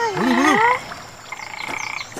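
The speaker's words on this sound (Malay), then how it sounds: "Ada katak." A frog near a shallow fish pool croaks loudly and close by in a warbling call, then, after a short pause, gives a quicker pulsing trill at lower volume.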